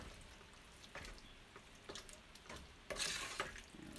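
Baked feta tomato pasta being stirred by hand, with soft scraping and clinking of a utensil through the thick sauce, a few distinct strokes and a louder wet swirl near the end, fairly quiet overall.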